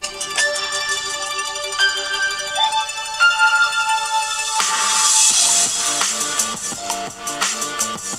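The same song plays through the front speakers of a Razer Phone held near the mic, with steady tones and a rhythmic beat that grows fuller partway through.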